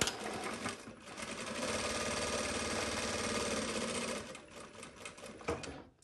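A JUKI DDL-900C industrial sewing machine stitches a seam in a fast, even mechanical whir that runs for a few seconds and then stops with a couple of quieter clunks.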